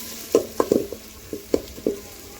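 Tomato and onion sautéing in a pan for mutton biryani, with a soft steady sizzle broken by several distinct stirring scrapes and clinks of a spoon against the pan, close and fairly quiet.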